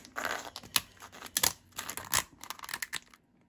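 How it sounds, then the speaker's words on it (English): Lobster tail shell being cut down the middle, giving a close series of crunchy snips and cracks in uneven bursts, then a short quiet end with no talking. "here we're just going to take the lobster tail and cut it down"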